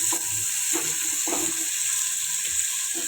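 Whole spices fry in hot oil for hotel-style matar paneer, a constant bright sizzle with occasional scraping stirs of a spoon in the pan, close up and without voices.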